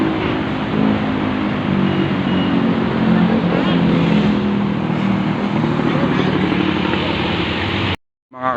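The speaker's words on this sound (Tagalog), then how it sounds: "Dami kotse." Road traffic with many cars under an overpass makes a dense, continuous roar and rumble of engines, loud and near, with voices talking over it before cutting off abruptly.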